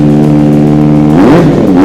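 A Kawasaki ZX-4R motorcycle engine idling steadily up close, then revving up and down in quick rising and falling bursts, loud and throaty.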